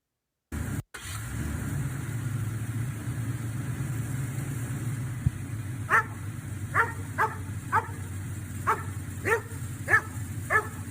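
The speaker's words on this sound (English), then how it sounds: "looking up in the window, barking, basically wanting you to move the truck" A dog barks about eight times in a steady, evenly spaced series at a truck, looking up at its window, over a constant low engine hum, at moderate distance.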